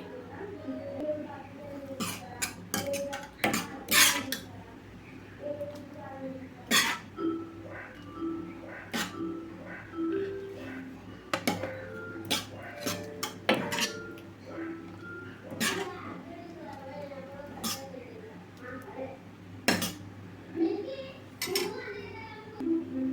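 Steel bowls clink and clatter while pea chaat is served, with sharp metallic taps scattered irregularly across the scene, close by and mixed with kitchen handling noise and occasional throat sounds.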